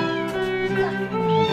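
Several cats meow in a home during winter, loud harmonic yowls overlapping one another through the whole short stretch, with no voices over them.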